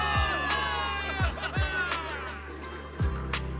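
A game crowd in Zenless Zone Zero cheers at a victory celebration, a steady roar of voices with whoops rising above it and heavy low thuds recurring at intervals underneath.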